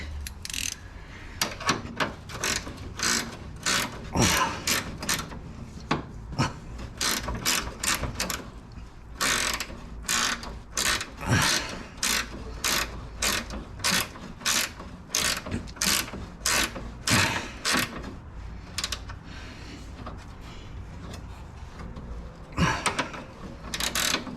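Repeated ratchet clicks while threading bolts in to install an H brace on a Honda Civic, a steady run of sharp close ratcheting bursts with short pauses between strokes and no talking.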